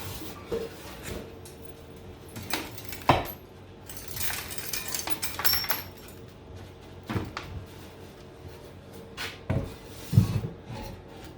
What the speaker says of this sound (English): Got a little junk in here. I'm going to dump in this bucket.